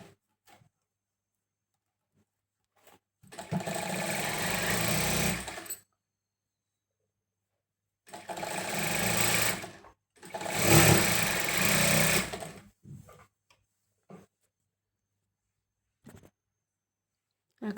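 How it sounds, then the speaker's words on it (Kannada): A sewing machine stitches a sleeve seam on a garment in three bursts: a run of about two and a half seconds, a pause, then two longer runs close together. The whirring is near and steady, with quiet gaps between runs. "ಆ ಕಡೆ ಈ ಕಡೆ ಈ ಥರ 1/2 ಇಂಚ್ ಬಿಟ್ಟು ಸ್ಟಿಚ್ ಮಾಡ್ಕೊಳ್ಳೋಣ"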